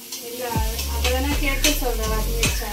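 Onions sauté in a pan for crab fry, giving a continuous close sizzle with stirring scrapes, while people talk over it throughout.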